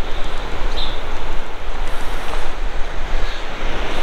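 Surf rolling onto the Spanish coast with a steady, loud wash of breaking waves and some wind buffeting the microphone, no voices.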